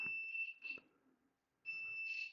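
Engine computer from a 1999 Volvo Penta 5.0 Gi with MEFI 3 control, connected to a test simulator, emits clear electronic beeps: a short pair followed by a longer tone, close and steady, over faint room noise.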